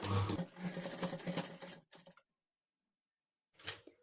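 A sewing machine running a stitch on a princess cut blouse, a fast rattling burst that stops abruptly, then after a silent pause a second short run starts up close by.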